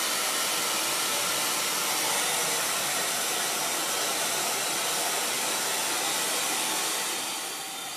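A blow dryer is aimed at wet black paint. Its steady loud hiss roars close for the whole stretch and eases slightly at the end.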